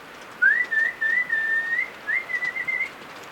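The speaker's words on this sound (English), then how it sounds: "When you whistled, he heard you." A person whistles outdoors in grizzly bear territory to catch a bear's attention: two clear sustained phrases with slight pitch wavers, fairly close and alone against quiet background.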